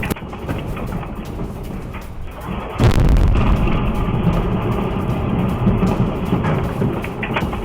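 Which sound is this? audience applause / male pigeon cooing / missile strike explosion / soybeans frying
missile strike explosion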